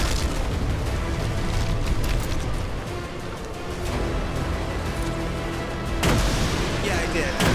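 Howitzer fire in a video game: heavy booming blasts rumble repeatedly against a dense, noisy battle backdrop, with one strong burst near the end.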